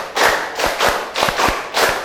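A group claps in rhythmic bursts as part of a counted clapping pattern, several broad, fairly loud clusters of hand claps in quick succession, close by with no speech.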